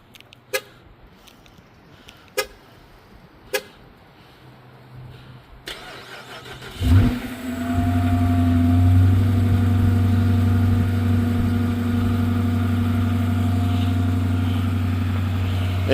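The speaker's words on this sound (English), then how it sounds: "Let's get a cold start." A Chrysler 300 engine cold-starts after a few faint clicks, catching with a sharp surge and then settling into a loud, steady, rumbling idle that holds to the end; nobody speaks.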